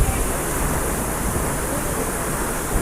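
Heavy water crashing and splashing at a hidden waterfall in Goa, a dense, steady roar close to the microphone with spray and wind buffeting throughout, no pauses.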